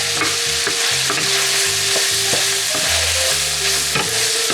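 Potato mixture for Cuban potato balls sizzles and fries steadily in oil in a copper-coated pan, with repeated scraping stirs cutting through the continuous crackle at close range.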